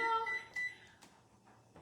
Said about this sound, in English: Oh, I'm going to set my timer.